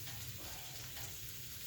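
Mushrooms fry in a pan on a wood stove, giving a steady hiss of sizzling oil, close but very quiet and unbroken.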